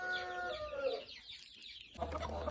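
Chicks clucking close by in a busy, overlapping cluster of short calls, with a louder burst of scratching through dumped brooder material and clucks near the end.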